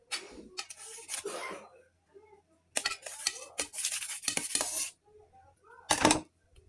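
Boiled, peeled potatoes are sliced with a knife on a board, giving scattered sharp clicks and short scraping bursts separated by quiet gaps, close but fairly soft.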